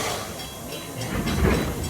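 Edison #1, a museum train at the Henry Ford Museum, rolls along its rails with a soft, steady rumble and faint hiss that swells slightly near the end of a brief moment.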